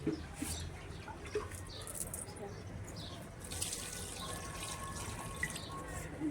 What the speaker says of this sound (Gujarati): હું આ બધા ઝાડવામાં પાણી નાખી દઉં